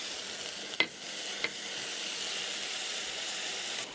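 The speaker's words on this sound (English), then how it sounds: "Once the onions hit the olive oil, they're going to start cooking and releasing the natural sugars." Thinly sliced onion sizzles gently in hot olive oil, a quiet, steady frying hiss with two or three brief stirring clicks near the start and one at the end.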